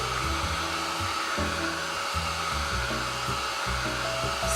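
A hair dryer blows steadily and loudly up close while drying paint on a mixed media art card, with a constant whooshing hum and small shifts in pitch as it moves.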